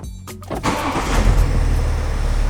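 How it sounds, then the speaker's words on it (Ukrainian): A BMW X6 engine cranks briefly and catches, settling into a steady, close idle with a low rumble. "Я обожнюю слухати, як працюють, як заводяться машини."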